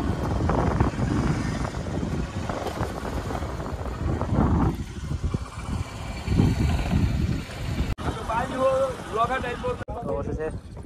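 A boat engine drones steadily with wind buffeting during a river crossing to a char near the India–Bangladesh border, loud and continuous, with talk rising over it toward the end.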